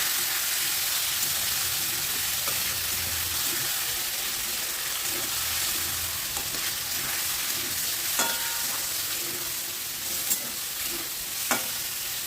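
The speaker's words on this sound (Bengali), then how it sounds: "তেলটা গরম হয়ে গেছে, এবার চিকেনগুলোকে দিয়ে খুব ভালোভাবে একটু নাড়াচাড়া করে নেব।" Chicken pieces frying in hot white oil in a wok as they are stirred, a steady soft sizzle with scattered clicks and scrapes from the stirring, fairly quiet and with no talk.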